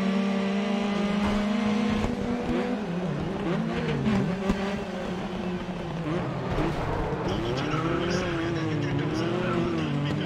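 Race car in Grid Autosport on Nintendo Switch, engine droning loudly throughout as it brakes and slows, pitch dropping and wavering with faint tire scrub, while someone talks over the game sound.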